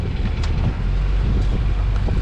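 A sailboat's auxiliary motor running steadily under way in a bay, a constant low engine drone mixed with wind noise, with no talking.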